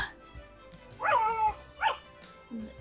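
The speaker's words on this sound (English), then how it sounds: "That dog Such a cute sound" A dog in the video game Storm Lover Kai gives a few short yips and barks, spaced irregularly over quiet game background sound.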